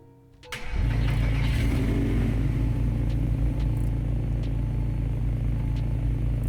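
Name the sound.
car engine starting up in a video game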